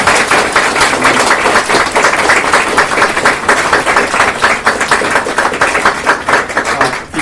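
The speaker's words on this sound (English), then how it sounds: "give some warm applause to the staffs from the Asan Institute in Seoul" Sustained audience applause at a transitional justice conference in Seoul, many hands clapping densely and loudly in a steady, unbroken wash with no voices over it.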